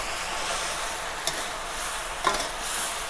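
Sauce with a little water simmering over low heat in oil in a pan for Thai son-in-law eggs: an even, hissing sizzle with a couple of faint spatter pops, close and continuous, without speech.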